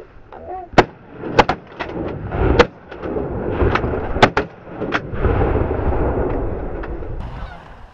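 Several sharp shotgun blasts ring out during a duck hunt, some close and loud, others more distant, spread irregularly through the clip over outdoor rumble, with geese honking and hunters talking.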